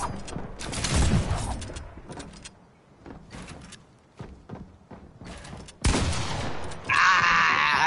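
Flintlock gunshots in a multiplayer video game, heard as several sharp, loud bangs spread unevenly over the stretch with quieter mechanical clatter between them, and a heavy burst near the end.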